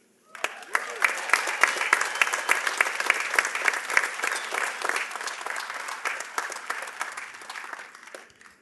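Steady, sustained applause from a crowd at the 2022 Madera Community College commencement ceremony honours Chancellor Munoz, with dense clapping heard close and clear throughout and a few cheers mixed in.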